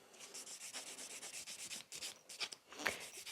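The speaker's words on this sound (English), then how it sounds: "take a buffer and give it a couple scratches to it" A nail buffer rubs over a plastic nail tip in quick, light scratching strokes. The passes are soft and close, with a few sharper scrapes near the end.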